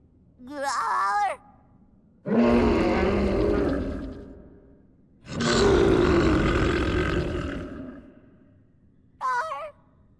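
A cartoon character in Teen Titans Go roars in two long, loud bursts, each one harsh and sustained, with brief voiced grunts before and after.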